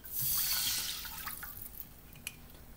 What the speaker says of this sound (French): Dans la même poêle qu'on a essuyée, on va ajouter le vin rouge